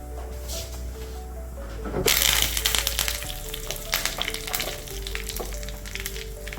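Mustard seeds and curry leaves hit hot oil with a sudden loud sizzle and spatter that crackles on steadily, with faint popping.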